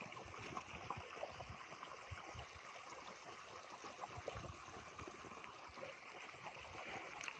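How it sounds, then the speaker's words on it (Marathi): Steady, rushing flow of running water on a farm fills the whole stretch, a continuous broad wash of sound with no voices. "हे बघा आपलं पाणी चालू आहे"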